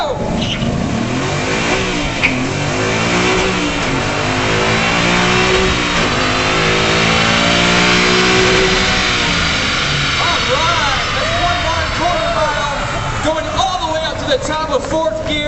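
A 2011 Ford Mustang Boss 302 at the Detroit Auto Show launches and accelerates hard, the engine revving up through the gears toward redline with rising, sweeping pitch, loud and close, while people talk over it.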